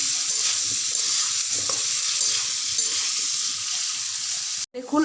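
Potato pieces fry in a pan with salt and turmeric for a soybean curry, a continuous loud hiss of hot oil with soft scraping stirs, cut by a brief pause near the end.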